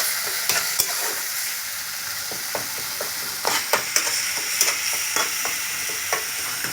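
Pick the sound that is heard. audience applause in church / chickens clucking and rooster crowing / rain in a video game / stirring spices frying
stirring spices frying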